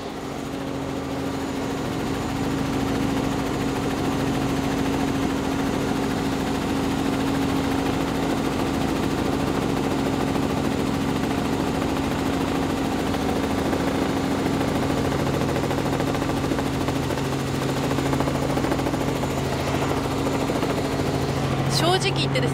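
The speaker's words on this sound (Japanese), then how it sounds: "今いくつか他にもヘリコプター飛んでると思うんですけれども" A helicopter flies over a large anti-nuclear protest encircling the National Diet in Tokyo. Its rotor and engine drone stays loud and unbroken throughout, with a voice talking over it.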